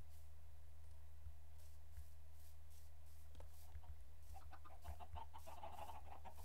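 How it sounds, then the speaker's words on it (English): Minecraft chickens cluck in short bursts over a steady low hum, growing busier toward the end. "Oh, the chickens are under here."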